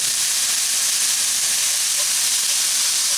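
Frozen peas hitting a hot pan while making corned beef pasties, giving off a loud, steady, hissing sizzle that carries on evenly without pause.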